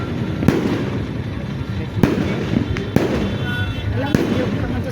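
New Year's Eve fireworks bursting, with several sharp booming explosions over a dense crackling rumble and people talking nearby.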